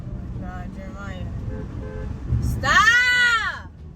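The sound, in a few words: car horn honking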